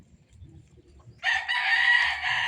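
A straight-breed Sweater gamefowl rooster lets out one loud, close crow that starts partway through and holds to the end, after a stretch of quiet background murmur.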